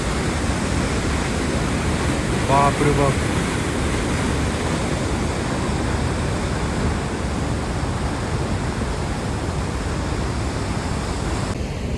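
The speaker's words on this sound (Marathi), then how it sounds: "पाण्याचा आवाज बघा" At Mistaya Canyon in the Canadian Rockies, rushing water roars through the narrow gorge in a loud, constant, dense torrent. Early on, a voice gives a short exclamation.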